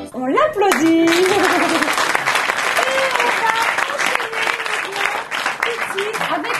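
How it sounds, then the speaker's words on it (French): Studio audience applause on a French TV entertainment show, a loud dense burst of clapping throughout, with a voice speaking over it at the start and a cheer or whoop. "On l'applaudit."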